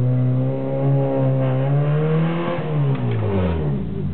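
A Renault 9 car engine revs hard and loud nearby, its pitch climbing and holding in sustained strained pulls, then dropping low toward the end, alone without talk.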